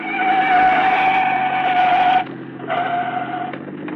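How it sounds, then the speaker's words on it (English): A police car engine roars steadily in a radio drama sound effect, with a sustained tonal whine that cuts off sharply partway through, then resumes more quietly. No voices are heard. "It's a police car."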